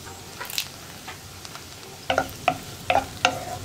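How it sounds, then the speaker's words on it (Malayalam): Curry leaves dropped into hot oil in a pan for okra curry crackle in a few quick sharp bursts, close and fairly soft, with light stirring scrapes between them and no talking. "പിന്നെ കുറച്ച് കറിവേപ്പില ചേർക്കാം"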